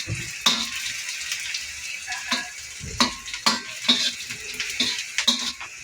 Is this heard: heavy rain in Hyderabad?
no